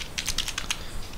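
A quick burst of keystrokes as a ulimit command is typed on a computer keyboard in a terminal, rapid crisp clicks close up that fade to quieter taps, with no voice.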